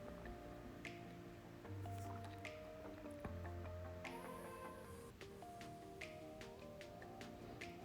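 Minced meat for Cameroonian fried rice is squished and kneaded by hand, producing soft, wet squelches and small sticky clicks, quiet and close-up.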